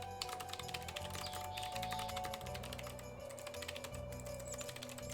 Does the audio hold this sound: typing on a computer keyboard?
yes